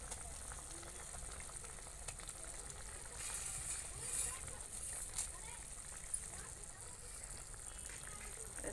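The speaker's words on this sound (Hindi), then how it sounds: "हमारा पानी उबल रहा है पानी इस मसाले का।" Spiced water boiling in a pot with Maggi noodles added, a steady close bubbling hiss with a few louder pops and sputters throughout.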